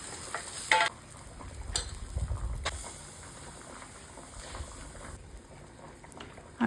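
An omelette fries in oil in a pan: a quiet, steady sizzle with occasional stirring and utensil clicks, heard alone.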